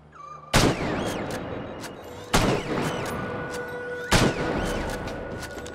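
Three loud, booming gunshots fire at intervals of roughly two seconds in the video game Insomnia: The Ark, each followed by a ringing tail and a low, sustained background hum.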